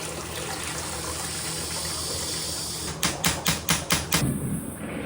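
Water gushing from a Kohler urinal during a diaphragm repair, a steady close rush with a series of about five loud pulsing spurts near the end.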